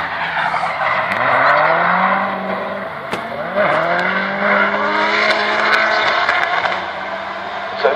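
Drift cars sliding in tandem at a Polish racing festival drift event, including a BMW, with loud sustained tire squeal and skidding over revving engines, rising and falling in long sweeps throughout.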